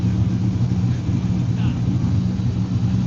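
Hot rod car with an LSA supercharged engine rumbling steadily at idle, a deep, loud low-end drone that holds constant without revving.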